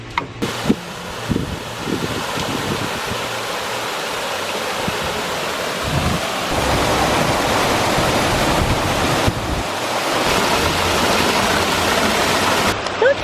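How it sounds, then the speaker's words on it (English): A backyard waterfall feature starts running, with a few clicks and bumps before a broad rushing splash of falling water builds and continues steadily, growing fuller after the midpoint, with no talking over it. "And let's turn on the waterfall."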